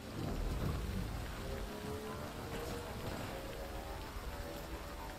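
Steady rainfall in the video game Death Stranding, a continuous hiss of rain pattering on surfaces with a low rumbling undertone, persistent and even from start to finish.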